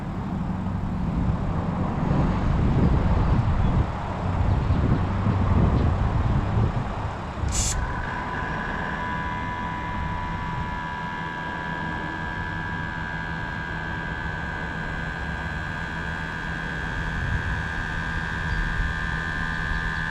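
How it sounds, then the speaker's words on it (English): An air compressor runs steadily to inflate the air suspension bags on a 2020 Chevrolet Silverado with a 4-inch Ready Lift, first under loud broadband rumble, then a sharp burst followed by a sustained whining hum. "Listen to the compressor kick on."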